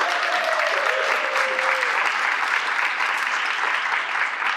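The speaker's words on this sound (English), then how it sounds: "Can we give a round of applause for that?" A loud burst of many hands clapping close by, a dense, even ovation with a brief whoop or voice rising early on.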